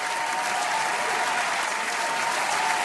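A crowd claps off-beat in the video game demo Sinker Sound, producing a thick, continuous wash of slapping hands with no shared rhythm, loud and unbroken throughout.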